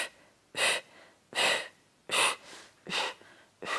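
Five forceful breath bursts during a Pilates exercise, spaced roughly evenly about three quarters of a second apart, close and fairly loud with brief quiet gaps between them.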